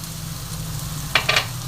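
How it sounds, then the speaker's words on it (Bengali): Pointed gourd fries in oil with nigella seeds and green chili, giving a steady low sizzle with a couple of brief utensil scrapes near the end. "দেখো কালো জিরি আর কাঁচা লঙ্কার সাথে পটলটা ভালো মতন ভাজা হয়ে এসেছে"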